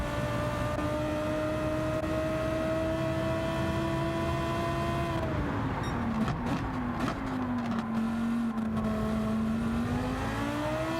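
A Lamborghini Huracan GT3 racing at Autopolis in Gran Turismo 7, its worn front-left tyre hurting the turn-in, gives a steady loud engine drone that holds its pitch, then dips and climbs again through a corner, alone with no talk.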